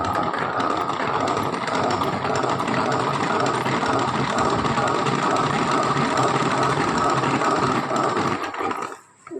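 A honey extractor spins comb frames while honey splashes against its inner walls: a steady, close mechanical whirring drone that holds evenly, then cuts off just before the end.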